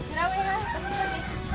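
Chickens clucking on a rural Philippine property, a short burst of soft repeated clucks close by over low background noise.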